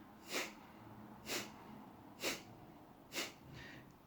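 Four evenly spaced, sharp exhalations through the nose, each forced out while the belly is drawn in during a breathing exercise, quiet and close with short pauses between.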